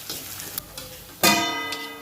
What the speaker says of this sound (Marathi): कांदा आणि लसूण परतून झालेला आहे.